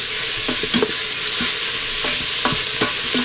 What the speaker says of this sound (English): That's been about 2 minutes that I've sauteed the onions